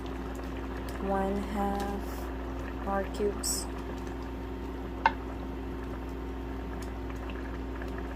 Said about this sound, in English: It's boiling already